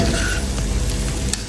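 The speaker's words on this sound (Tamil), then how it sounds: "ஸோ லைட்டாக வந்து கிண்டி விட்டுடலாம்." Chilli fish frying in a pan gives off a steady, dense sizzle while it is stirred lightly, close and fairly loud, with faint scraping and no speech.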